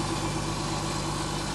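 A 2023 tractor with one season of work, its engine running steadily with a deep continuous drone and vibration, close and unbroken, no voices.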